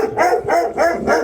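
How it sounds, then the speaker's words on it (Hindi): A lively dog at a home with goats, barking three or four times in a quick, even rhythm, close and loud, early in the morning. "बाहर कोई आया तो इसलिए भौंकना शुरू कर दिया।"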